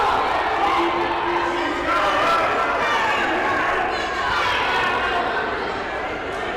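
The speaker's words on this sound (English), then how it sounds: "People are screaming at one another." A basketball crowd in a high school gym yells and argues, a loud, continuous mass of shouting voices with excited outbursts rising and falling, close and unbroken throughout.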